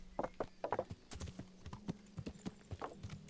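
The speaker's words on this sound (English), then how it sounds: "Our horse" Horse hooves clip-clopping in the medieval video game Kingdom Come: Deliverance, a steady walking rhythm of close, distinct hoof strikes with faint background tones and no talk.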